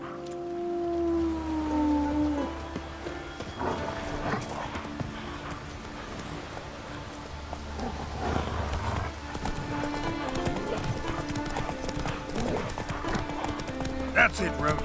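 Roach the horse gallops in The Witcher 3 video game, hooves clip-clopping in a quick steady rhythm, with a whinny and ambient game sound; a voice speaks briefly over it.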